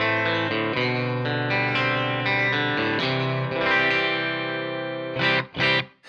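Electric guitar run through a Suhr Reactive Load with a darker impulse response, played as sustained chords and notes with a mildly driven, effects-laden tone, loud and alone, ending in two short strummed bursts.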